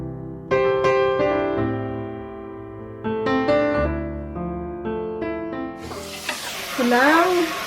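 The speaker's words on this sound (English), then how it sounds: "Just stir it until you can start smelling the garlic." Garlic frying in a pan while being stirred for a Cambodian stir-fry chicken with kroeung lemongrass paste; after several seconds of tonal, music-like sound, a loud, steady sizzle rises for the final two seconds.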